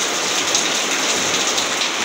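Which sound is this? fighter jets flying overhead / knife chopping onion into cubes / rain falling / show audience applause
rain falling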